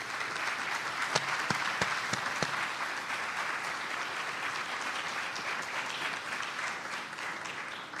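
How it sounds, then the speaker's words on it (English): Audience at a Virginia military and student veteran education summit applauding standing committee members, a steady wash of many hands clapping close and loud throughout, with a few sharper claps near the start. "let's give them a round of applause"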